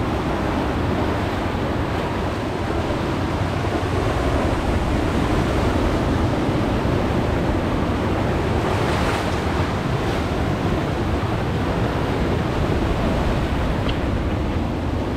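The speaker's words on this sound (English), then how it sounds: "look at water running water here" Running river water outdoors, a loud continuous rushing wash with gusty wind noise on the microphone, steady for the whole stretch with no talking.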